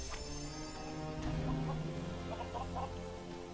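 Chickens clucking in LEGO Worlds, a few soft, scattered clucks over a steady game background hum, no talk.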